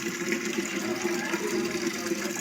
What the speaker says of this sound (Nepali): मजाले पानी आइरहेको ठाउँ क्या